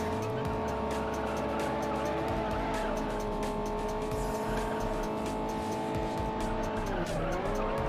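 Racing car engine in the video game Juiced, a steady sustained drone with rising and falling pitch, tire squeal and skidding layered over it throughout, loud and continuous.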